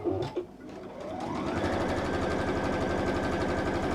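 A sewing machine stitching down the sides of a fabric bag made from striped material, a close, steady rapid whirring chatter that starts after a few brief knocks and runs on evenly without talk.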